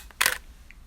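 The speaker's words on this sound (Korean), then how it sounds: "그럼 셔터 스피드를 4로 설정하고 찍겠습니다." A camera shutter fires once at a quarter-second exposure, a sharp mechanical clack followed by a faint softer click, quiet otherwise.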